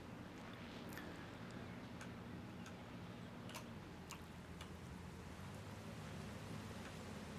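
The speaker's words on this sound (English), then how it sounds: "Oh, it's raining." Steady rain falls in the survival game Once Human, a constant close hiss with scattered sharp ticks of drops on surfaces, heard alone without talk.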